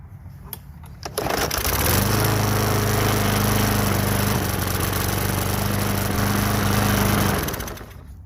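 A Briggs and Stratton small engine with a plastic carburetor fires up after cleaning and runs loud and close with a rough, rapid, steady clatter for several seconds before it starts to wind down.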